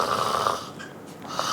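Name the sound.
snoring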